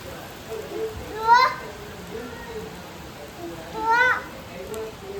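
Steady hiss of rain falling throughout, with two brief rising voice calls in the distance.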